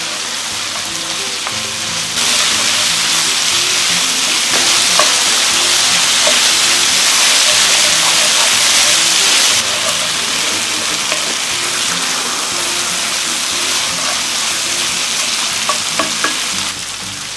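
Paella broth with oil and soy sauce simmers and sizzles steadily in a pan, a continuous bright frying hiss with occasional small pops and spatters, close and fairly loud, with no talking.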